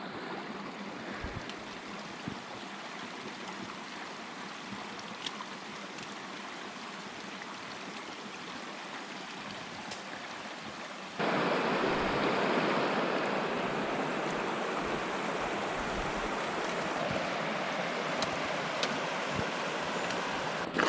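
Steady broadband rush of flowing river water, continuous and fairly close, growing noticeably louder and fuller partway through as if moving nearer the current.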